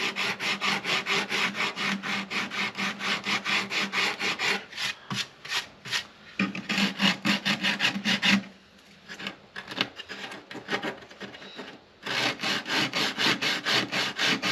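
Hand tool smoothing the soundhole edge of a Martin D-35 guitar, a close rhythmic rasping of quick back-and-forth strokes, with a short break and a few slower, quieter scrapes in the middle.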